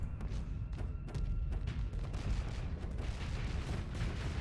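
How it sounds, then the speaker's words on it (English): Rapid cannon fire during a space combat battle in the game Starsector, a dense string of quick thudding booms and impacts under a rumbling background, fairly quiet overall. "Alright, shot cannon, light it up."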